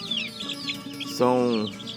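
Chicks of the Índio Gigante breed, crossed with ordinary hens, cheep in high, repeated peeps near the microphone, with someone speaking over them and a louder clucking call midway.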